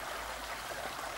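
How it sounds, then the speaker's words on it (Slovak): The Veperec stream flows through the village of Hokovce, Slovakia, with a soft, steady trickling and gurgling of water, quiet and unbroken, with no voices. "na tomto potoku Veperec, na tomto mieste priamo v dedine Hokovce"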